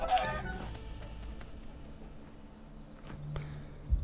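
A chicken in a Minecraft animation gives a few short clucks near the start, followed by quieter scattered ticks and taps over a soft background, with a small thump near the end.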